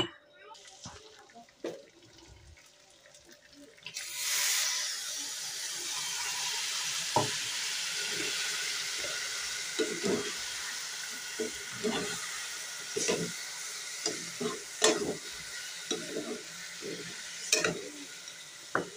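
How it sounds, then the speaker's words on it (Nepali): Garlic and ginger paste hits hot oil for a simple chicken curry, bursting into a loud, steady sizzle after a quieter start, with scattered clicks of stirring throughout. "लसुन र अदुवाको पेस्ट हाल्छु है म"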